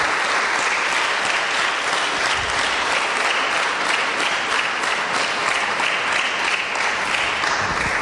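Loud, continuous clapping fills the hall at the GrandFront 2011 awards ceremony, an evenly sustained burst of applause from a large audience after the main prize is presented, with no break across the whole stretch.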